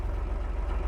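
An older tractor engine in Farming Simulator 22 runs with a low, throbbing idle and a steady deep rumble, close and continuous over a brief moment.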